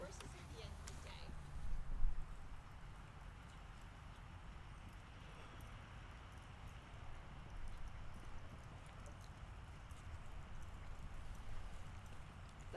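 Horse hooves clip-clop across the footing of a riding arena, a loose rhythm of muffled thuds swelling briefly near the start, heard under ongoing talk.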